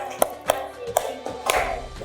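Sparse, scattered hand claps from a classroom group playing a counting game, landing on multiples of seven and numbers containing a seven, four uneven claps over a steady room murmur and faint voices.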